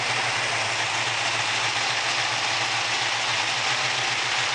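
A warming engine idles at a slow, steady rumble of about 750 rpm, smooth and continuous under broad hiss, with no voices.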